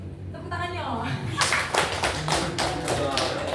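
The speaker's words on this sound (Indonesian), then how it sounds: "Tepuk tangannya loh." An audience at a teacher training session claps in a quick burst of sharp, close hand claps that follows a voice and briefly overlaps with it.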